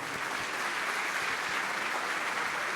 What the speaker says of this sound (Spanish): Un aplauso, por favor, a Tracy